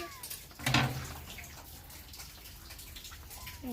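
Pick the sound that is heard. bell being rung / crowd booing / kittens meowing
kittens meowing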